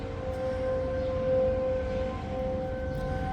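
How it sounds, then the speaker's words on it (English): Civil defense siren during a tornado warning, a steady wailing tone sounding at a distance over a constant low rumble of wind or rain. "Is that a siren going on?"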